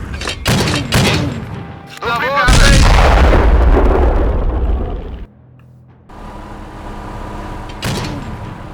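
Heavy, booming artillery blasts and sharp gunfire crack repeatedly in the video game Blitzkrieg Anthology, close and loud, with a long rumbling roar in the middle and voices talking over it.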